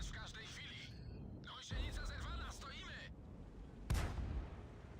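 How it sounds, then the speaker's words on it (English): Artillery firing in the World of Tanks game on the El Halluf map, two sharp booming impacts spaced a couple of seconds apart amid other battle noise and tonal game sounds. "But artillery is staggering its fire, and we get to continue waiting."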